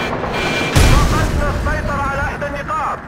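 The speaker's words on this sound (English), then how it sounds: "Who is shooting at me?" A heavy blast or gunshot booms once in a Battlefield Iraq battle, followed by ringing tonal game sounds and scattered combat noise while someone speaks over it.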